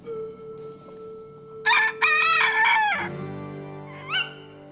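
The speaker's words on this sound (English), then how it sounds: "This cockerel has crowed its last" A farmyard cockerel crows a loud, close cock-a-doodle-doo in several wavering rising and falling phrases over a quiet background hum, followed by a brief shorter call.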